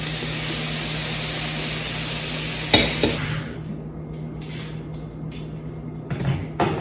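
Browned ground meat, onions and minced garlic fry in a pan with a steady sizzle and a low hum, broken by a couple of sharp clanks before the sound quiets to intermittent scraping and sizzling bursts.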